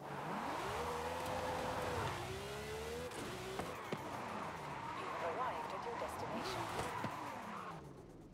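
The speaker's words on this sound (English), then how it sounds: "I love the sound of them turbos" A turbocharged car in Forza Horizon 5 revs and climbs through gear shifts, the engine note rising and dropping under a steady drone, with a voice talking over it.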